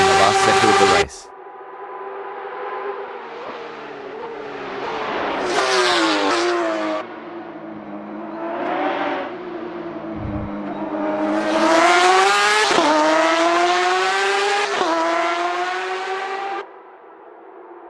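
Porsche 911 RSR race cars roaring around Spa in a racing video game, engines revving and shifting through gears continuously, loud and close, with pitch climbing and dropping as they accelerate and pass.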